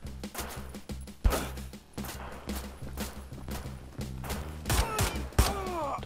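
Several sharp gunshots crack out at irregular intervals over a steady game soundtrack in Wolfenstein: The New Order, sewer level, some louder bursts close together near the end.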